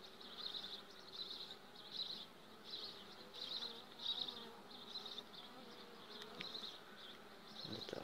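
A bee flies around near a hive nucleus, its faint buzzing rising and fading in repeated swells as it circles close by in a quiet outdoor setting.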